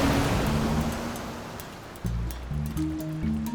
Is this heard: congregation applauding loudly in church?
no